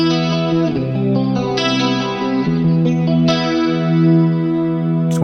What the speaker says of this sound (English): So here's the rack chorus.